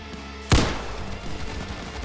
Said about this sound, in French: il me tire avec une mitraillette